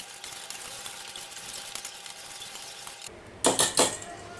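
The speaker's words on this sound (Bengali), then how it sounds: "এখন শুকনা জিনিসগুলোকে একটু মিলায় নেই" Dry bread dough ingredients, flour, sugar and salt, stirred together in a bowl, a soft steady scraping followed by a few sharp clinks of a utensil against the bowl, close and clear.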